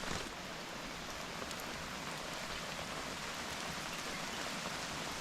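Steady, even rain hisses continuously over a broad wash of noise, with no voices or other distinct sounds.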